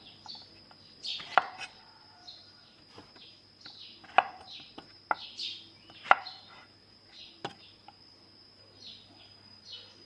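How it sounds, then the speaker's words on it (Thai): A knife chops luffa gourd on a board while curry with mushrooms is prepared, giving irregular crisp cuts, some loud and some soft, with faint bird chirps and a steady background tone behind them. "หั่นตามชอบเลยนะเจ้า"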